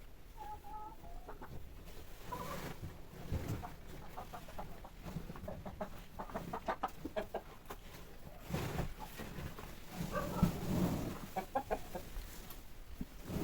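Several chickens cluck on and off across a farmyard, the calls scattered and moderately close, with occasional bursts of activity and no talking.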